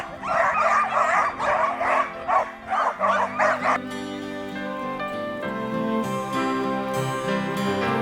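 Huskies yip and bark in quick bursts, an excited chorus of sled dogs close by, giving way to a steadier tonal sound.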